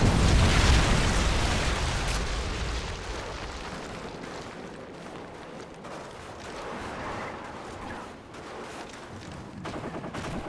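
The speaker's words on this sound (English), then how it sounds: "Friendly predator missile inbound." A predator missile strike in a first-person shooter game lands with a heavy explosive roar. Dense crackling gunfire and bursts of combat noise continue throughout.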